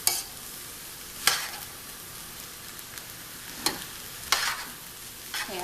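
Cabbage fries in a pan with a steady soft sizzle, broken by several sharp scraping stirs spaced a second or two apart, close and clear with no talk.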